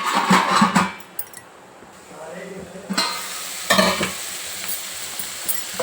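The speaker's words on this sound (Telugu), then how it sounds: "ఇది 1 నిమిషము వేగనిద్దాం మూత వేసుకొని" Ridge gourd and moong dal with coriander powder frying and being stirred in a pan, with scraping stirs, a lid clatter and a steady sizzle throughout.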